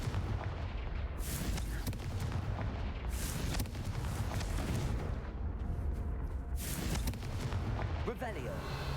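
Fiery Confringo spell blasts in the Hogwarts Legacy video game, a run of loud, dense booming bursts over roughly nine seconds, with a steady rumbling low end and no pauses.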